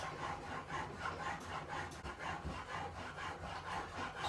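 A steel chisel rasps back and forth on a diamond sharpening plate in a steady, continuous grinding scrape, close up and even in rhythm.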